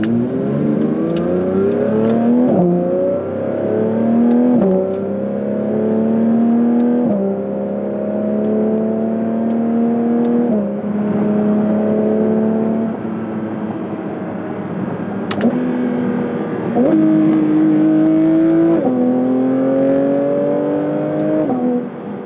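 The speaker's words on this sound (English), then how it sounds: "So at low RPMs, even like at around 6, 7, the car doesn't sound" Porsche GT3 RS engine revving at low RPM while the car is still being broken in, a steady harmonic engine drone rising and falling through repeated throttle blips, loud and close, with no talking.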